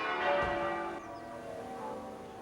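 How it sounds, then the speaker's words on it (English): Half-muffled bells of the Collegiate Church of St. Mary in Warwick toll on Remembrance Sunday, a soft, dull chime ringing out and decaying, heard at a moderate distance with no talk. "The sombre sound of the half-muffled bells of the Collegiate Church of St. Mary in Warwick"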